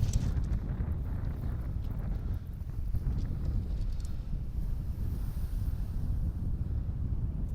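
Wind gusts steadily across Chesil Beach, a low, constant rumbling buffet on the microphone that runs throughout with no talk.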